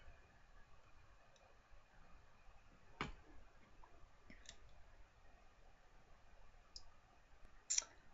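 A computer mouse clicks sparsely during spreadsheet work, a handful of sharp, faint, separate taps spaced a few seconds apart over quiet room hiss.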